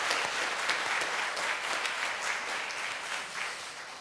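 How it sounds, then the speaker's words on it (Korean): A church congregation claps together in praise, a steady, dense wash of applause from many hands filling the room at a moderate level without talk. "영광의 박수."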